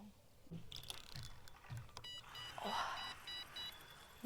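A fishing bite alarm beeps in a short run of bright, evenly spaced tones near the end, with faint outdoor noise and occasional low sounds from the waterside setting.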